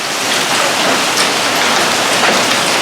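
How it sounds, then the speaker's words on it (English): Steady, dense dime- to nickel-size hail pattering loudly on a house during a storm, a continuous close hiss of impacts with no pauses. "You can hear the hail."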